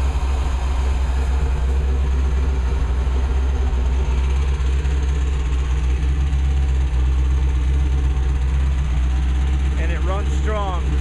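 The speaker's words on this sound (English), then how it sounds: "It's got a 350 motor in it." A 1978 Gulfstream boat's 350 engine runs steadily, a loud deep continuous rumble close by with a constant drone, and a voice briefly rises over it near the end.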